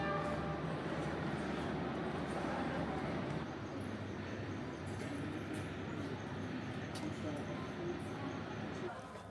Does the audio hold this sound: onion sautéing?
no